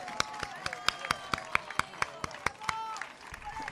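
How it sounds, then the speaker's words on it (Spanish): An audience cheers two runners with a burst of sharp, rhythmic clapping, evenly spaced claps ringing out close by over a faint crowd murmur. "Un gran aplauso para ellos."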